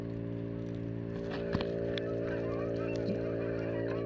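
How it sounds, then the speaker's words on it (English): Canada geese honk overhead above black sands where gold is being panned, faint and scattered honks over a steady machine-like drone. "Oh my goodness, here come the geese."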